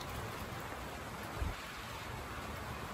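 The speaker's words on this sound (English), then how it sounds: "I like the sound of rain." Rain falls steadily during sugaring season, a soft, even hiss that stays faint throughout, with one brief dull thump in the middle.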